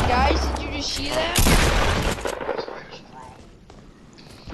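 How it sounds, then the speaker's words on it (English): A video game earthquake shot erupts in a loud burst of rapid booming impacts and crackling rumble, lasting about two seconds before tailing off into a quieter, rough roar. "An earthquake shot, guys!"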